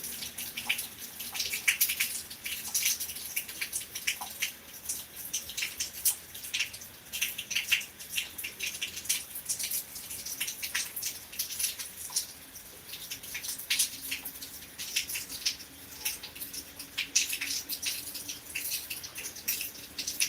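Rain falling in Beed, a continuous fine crackling hiss of drops with faint patters and drips, steady and moderately quiet throughout.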